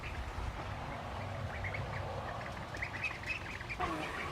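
Ducklings quack and peep softly on a farm, scattered chirpy calls over a constant background hum, with no talk.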